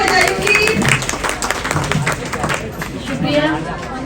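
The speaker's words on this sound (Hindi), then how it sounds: "तालियां बजाइए प्लीज।" An audience at a Nationalist Congress Party foundation day event claps and cheers in welcome, a loud dense wash of applause mixed with crowd chatter and voices throughout.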